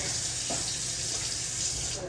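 Water runs steadily from a tap into a sink, a continuous splashing hiss that fills the whole moment without pause.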